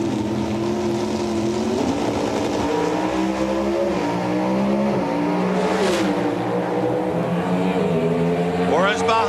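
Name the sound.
NHRA drag race car powering through 5-speed transmission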